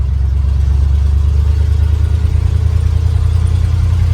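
A 1967 Ford F100 pickup's engine, long abandoned and driven again, drones with a steady low rumble and road hum from inside the cab, loud and constant with no voices.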